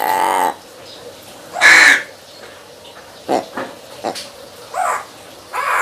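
Large pet crow or raven cawing in several loud, harsh bursts close by, separated by short gaps with quieter rustling in between.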